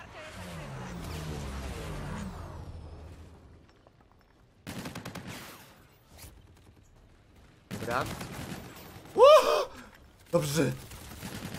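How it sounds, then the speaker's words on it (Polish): Hip-fired gunshots in Call of Duty: Infinite Warfare multiplayer come in a few sharp bursts separated by pauses, with a voice talking and gasping between them. "Z biodra strzeliłem."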